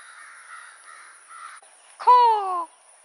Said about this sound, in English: Those crows getting mad about